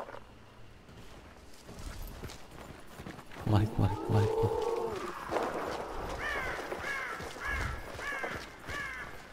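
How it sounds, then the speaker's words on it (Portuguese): Crows caw repeatedly in Hunt: Showdown, a run of harsh calls rising over a rumbling swampy background, with someone talking over parts of it. "E som das aves atrás da gente."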